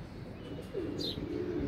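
Pigeons coo softly nearby, with a short higher chirp partway through, as kites arrive overhead.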